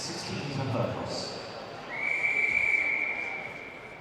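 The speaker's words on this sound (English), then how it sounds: "The whistle goes." A single shrill starting whistle sounds at an indoor athletics meet before a men's 60-metre hurdles heat, held steadily for about a second against faint arena murmur.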